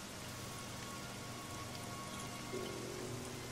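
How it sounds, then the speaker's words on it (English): Steady rain falls in the Arma III battle royale game, a dense, even hiss of drops on surfaces that holds constant for the whole stretch with no voices over it. "It's raining, though."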